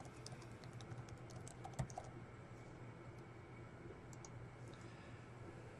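Keys tapped on a computer keyboard, soft scattered clicks in short runs over a quiet room hum, one sharper knock near two seconds.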